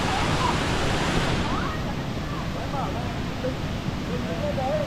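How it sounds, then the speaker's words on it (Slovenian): A waterfall in Vietnam rushes in a steady, dense roar of falling water, loud and close, while people talk faintly over it. "slap je veličasten,"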